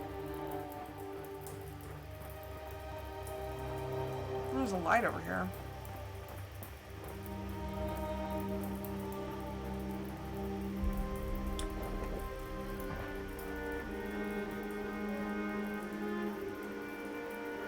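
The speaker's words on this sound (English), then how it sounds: "And it's raining?" Steady light rain patters throughout at low level in the video game Lifeless Moon, while a voice speaks briefly partway through.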